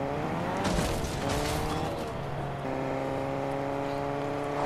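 Car in Fortnite drives past, its engine tone rising and falling with shifting pitch as it goes by, fairly loud and steady with no talk.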